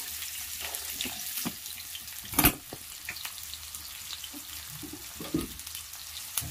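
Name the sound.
thinly sliced onions frying in oil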